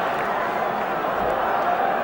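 Thousands of West Brom Albion fans at the 1978 FA Cup semi-final against Ipswich raise a broad, steady roar from the stands, a continuous distant crowd swell with a commentator's voice over it.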